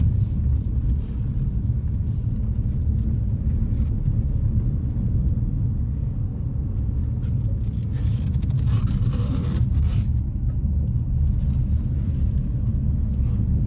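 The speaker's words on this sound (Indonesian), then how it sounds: "Suara mesin jelas terdengar di kabin, serta suara luar juga masuk" Steady low engine drone of a 2014 Suzuki Karimun Wagon R GL three-cylinder hatchback heard from inside the cabin while driving, a constant rumble with road and outside noise mixed in, no talking.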